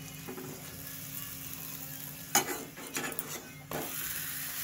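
Luchi fry in a little oil with a soft, steady sizzle, broken by scraping and clattering of utensils in the pan.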